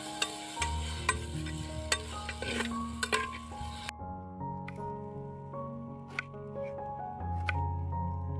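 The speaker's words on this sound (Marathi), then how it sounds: "आता हे थोडंसं फ्राय करून घ्यायचं आहे आपल्याला तेलामध्ये।" Potato, tomato, cabbage and carrot frying in oil, a soft sizzle with occasional stirring scrapes and clinks, heard beneath steady background music.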